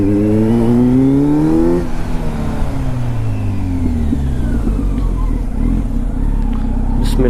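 A Kawasaki Z motorcycle fitted with an Arrow Pro Race titanium exhaust accelerates hard in full-power rider mode, revs climbing through gear changes with a loud, close, raspy exhaust note throughout.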